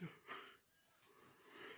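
A man lets out a quiet, breathy yawn, long drawn and airy, with a soft rise and fall. It sounds faint and close.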